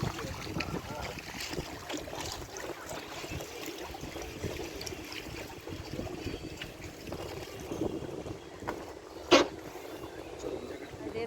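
Steady rush of water and wind around a moving boat on the Ganges at Prinsep Ghat, continuous and fairly faint, with a brief sharp knock near the end.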